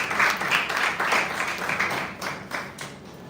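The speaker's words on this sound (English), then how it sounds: "Please give me a round of applause." Audience at a lecture series gives a short round of applause, dense clapping that swells and then gradually thins out over a few seconds.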